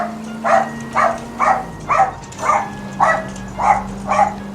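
A dog barks eight times in an even, steady rhythm, each bark short and fairly close, over a low steady hum.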